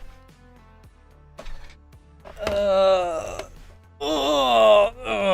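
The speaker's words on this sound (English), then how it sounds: "I just needed to stretch and yawn" A person yawns while stretching, two drawn-out, moaning vocal yawns, the second louder and rising, following a few quiet clicks and thumps.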